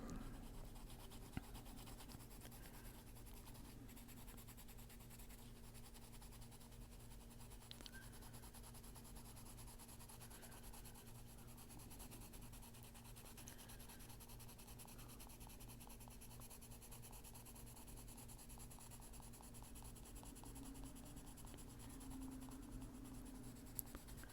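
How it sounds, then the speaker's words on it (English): The side of a darker colored pencil shades steadily across paper, giving a faint, continuous scratchy rubbing that runs without pause over a low background hum. "Okay, we'll take the side of the darker pencil."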